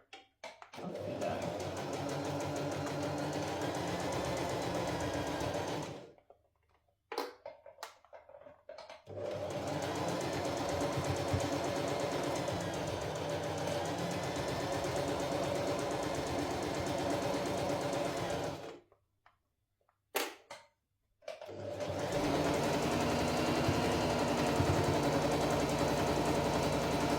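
A sewing machine hums steadily at close range while stitching a quarter-inch seam. Two long runs of continuous stitching are broken by brief pauses with a few clicks and bursts between them.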